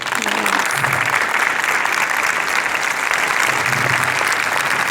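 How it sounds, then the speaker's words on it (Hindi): Sustained, dense applause from an audience honouring teachers at a school award ceremony, steady and loud throughout with no pauses. "I want to have a big clapping for my teachers."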